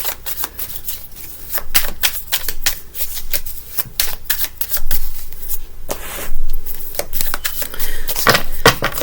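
Tarot cards are shuffled by hand in rapid, crisp riffling and flicking bursts, close to the microphone, continuing with brief pauses and no talking.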